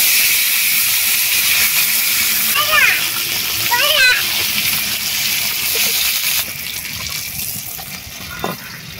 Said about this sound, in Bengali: এবারে এই যে ম্যারিনেট করা মাছটা তাওয়ার মধ্যে দিয়ে দেব।